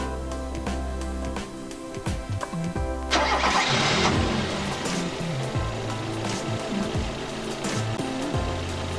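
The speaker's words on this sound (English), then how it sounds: "we check the fuel pressure while the engine is cranking" A Toyota engine cranks with a rhythmic starter churn during a fuel pressure test, then a louder, denser surge partway through, continuing steadily and fairly close.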